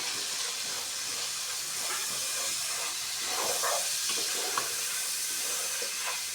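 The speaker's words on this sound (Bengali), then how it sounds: "নেড়ে চেড়ে একটু মাংসটাকে ভেজে নিব।" Meat frying in a pan with chopped garlic and spices for Bangladeshi-style haleem: a steady, close sizzling hiss with faint crackles, and no one speaking.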